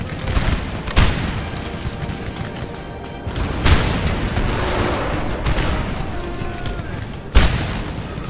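Booming Napoleonic-era cannon shots in Napoleon: Total War during the Battle of Le Havre, several loud reports spaced seconds apart over a steady roar of battle noise.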